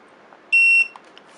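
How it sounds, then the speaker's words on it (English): A TST 507 tire pressure monitor display gives a single clear electronic beep, about a third of a second long, as its set button is held down. The beep is close and loud against a quiet background. "you hold the set button down until it beeps"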